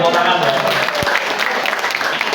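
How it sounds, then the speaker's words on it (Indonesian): An audience at an Islamic lecture gives a dense burst of applause that holds steady throughout, loud and close, with a single low thump partway through. "kita beri tepuk tangan ya"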